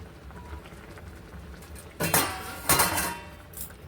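A cooking pot of boiled fish is lifted off a gas stove: a few sharp metallic clanks and scrapes of the pot against the burner grate, close by, over a quiet kitchen background.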